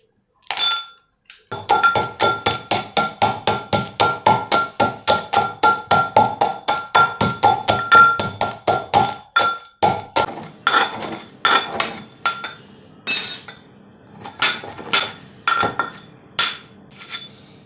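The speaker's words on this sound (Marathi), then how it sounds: "खलबत्त्यामध्ये खडी साखर थोडी थोडी करून टाकून आपण बारीक करून घेऊयात" Rock sugar being crushed in a mortar and pestle: a rapid, steady series of ringing metallic pounding strikes close by that later slows into irregular, separated blows, with no voices.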